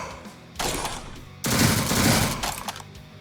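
Rapid bursts of auto rifle fire in the sci-fi game Jupiter Hell, two loud sustained volleys with a short lull between, dense crackling shots close and alone.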